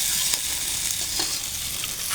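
Sliced potatoes frying in a pan with a steady, dense sizzle throughout, broken by a few brief scrapes and clinks as a spatula stirs them, with no voices present.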